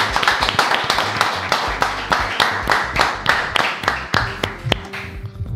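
A studio audience claps to welcome guest Alejandro Dolina on a talk show, giving a brisk, fairly sparse round of distinct handclaps that thins out toward the end.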